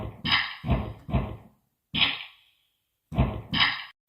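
A drum kit built from pencil sounds plays a sparse beat of hits, tapping and scratchy bursts in uneven groups with short gaps between them.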